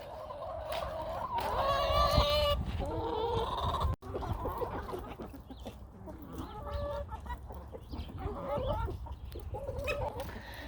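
Several backyard hens cluck and squawk close by, with rising excited calls and shorter clucks overlapping throughout, one sharp knock partway through and no speech.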